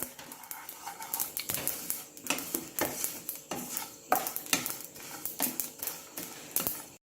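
Sesame seeds dry-roasting in a pan for homemade idli podi crackle and pop in quick irregular bursts of sharp clicks, close and fairly quiet, with no talking.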